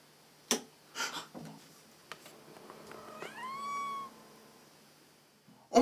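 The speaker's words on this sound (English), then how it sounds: "Oh my god, it was your cat!" A cat gives a single drawn-out meow, clear and fairly close, after a few soft knocks and rustles in a quiet room.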